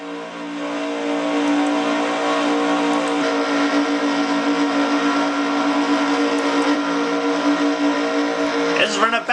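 Onboard race car engine at Talladega Superspeedway in a racing game, a steady high-pitched drone holding flat at full throttle for several seconds, loud and continuous, with a brief whine shift right at the end.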